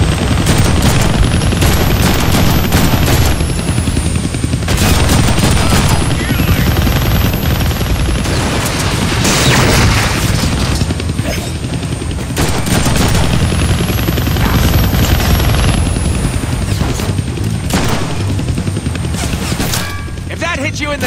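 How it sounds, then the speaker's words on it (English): In the Deadpool video game, a chopper's rotors drone under dense machine-gun fire, with rapid bursts, booms and mechanical clatter, loud and continuous, plus a whining sweep that rises and falls overhead. "I can't kill that chopper with my guns"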